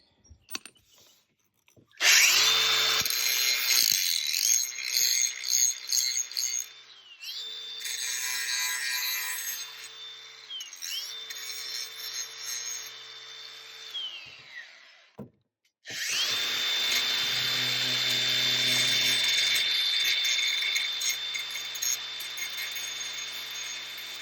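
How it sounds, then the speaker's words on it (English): A power grinder whines loudly against a metal bolt head in long bursts, its pitch dipping under load, with brief pauses between passes. "I'm going to grind it down a little bit so that this little nut will fit on there"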